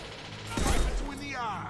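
A single heavy sniper rifle shot in Mass Effect 2, a loud close crack with a short ringing tail, then quieter game sounds.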